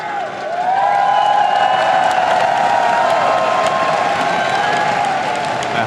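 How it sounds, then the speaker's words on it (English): A large arena crowd at a League of Legends Mid Season Invitational 2015 semifinal match roars and cheers continuously, a dense, loud wash of voices and applause that holds steady throughout. "The crowd in there going crazy."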